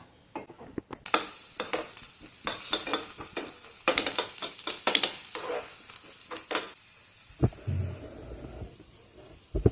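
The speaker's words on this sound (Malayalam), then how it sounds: "ഇതിനൊരു താളിപ്പൊഴിക്കാം ചെറിയ ഉള്ളി വറുത്തിടണം" Small onions frying in hot oil for a tempering, with steady close crackling and sizzling broken by repeated stirring scrapes, then the frying quiets and thins toward the end.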